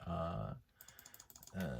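Quick, light key taps sound at close range on a makeshift device rather than a proper keyboard, about a dozen clicks in a short burst. A voice is heard just before and just after the typing.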